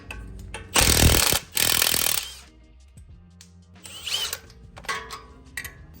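An impact wrench rattles in two loud bursts on the 17 mm strut tower bolts of a Honda Civic Type R, followed by quieter clanks and tool handling in a garage.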